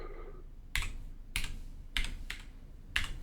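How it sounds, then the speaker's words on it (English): A computer keyboard clacks as a username is typed into Skype. Four sharp, separated clusters of key strikes sound close and distinct against a quiet room. "Tell me what I'm typing into Skype to get them."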